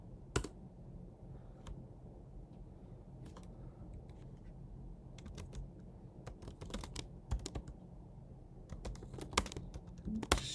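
Typing on a computer keyboard while entering C++ code, quiet irregular clicks and bursts of keystrokes close by, faint against background hiss.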